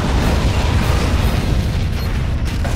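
A heavy, rumbling explosion of a spaceship in a Star Trek video game roars and fills the space, a dense low blast that sustains and slowly thins out, with no voices.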